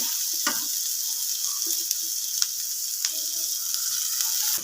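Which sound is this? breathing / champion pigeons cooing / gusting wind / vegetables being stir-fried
vegetables being stir-fried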